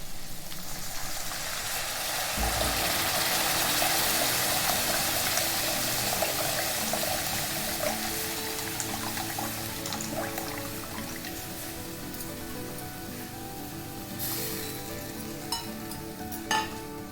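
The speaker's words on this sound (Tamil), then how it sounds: "இப்போ நம்ம கரைச்சி வச்ச இந்த புளி தண்ணியை இதில் சேர்த்துக்கலாம்." Tamarind water goes into a hot pan of puli inji made with ginger, green chillies and turmeric, setting off a loud, steady sizzle with stirring and bubbling that eases slightly toward the end, with a few sharp clinks near the close.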